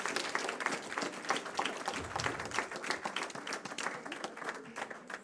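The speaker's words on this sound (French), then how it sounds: "Je vous propose qu'on s'applaudisse parce qu'on a tous bougé en même temps." An audience claps together at the close of a public talk on physical activity and mental health, a dense, even patter of applause heard at a moderate distance with no talking over it.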